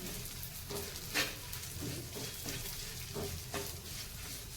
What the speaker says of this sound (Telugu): ఒక రెండు స్పూన్ల నూగులు ఇలా నూగులు వేసుకొని అవి కూడా వేయించుకోవాలి